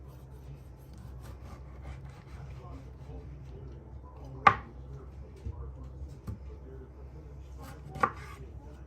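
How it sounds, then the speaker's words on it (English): Knife chopping fresh tomatoes on a chopping board, a few irregular close knocks and scrapes spread out over several seconds against a low background hum. "Just dice it up."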